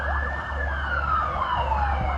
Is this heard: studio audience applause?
no